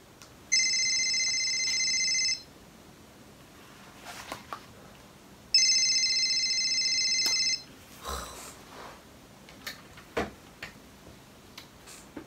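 A telephone rings in two long electronic bursts separated by a pause, fairly clear in a quiet room, followed by faint handling clicks and knocks.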